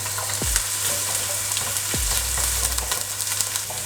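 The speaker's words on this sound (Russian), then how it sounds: "закидываем в наш сотейник лук" Onion frying in hot oil in a non-stick sauté pan over high heat, a steady close sizzle with a few scraping stirs, no talking.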